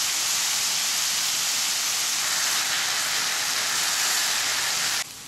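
Meat stir-frying with minced garlic and soy sauce in a pan, a steady, loud broadband sizzle that holds evenly throughout, then drops sharply near the end as the heat or stirring changes.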